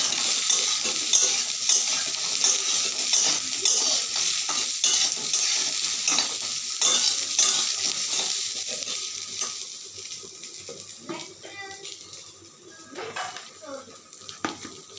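Olive chutney bubbles and sizzles in a pan under brisk, continuous stirring with scraping spoon strokes. The sound is loud and close, then quietens toward the end, where a voice speaks briefly.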